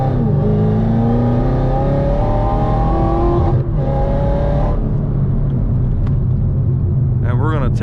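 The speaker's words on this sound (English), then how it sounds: "I'm gonna give us a little rev." A 2018 Yenko Camaro's engine revs, a loud, close, droning roar whose pitch climbs steadily and then falls away, with someone talking over it.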